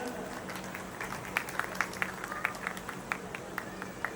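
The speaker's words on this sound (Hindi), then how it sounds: "जोरदार तालियों के साथ इनका स्वागत" An audience at a Ramleela festival event claps to welcome guests on stage, scattered fairly faint hand claps forming light applause over a murmur of voices.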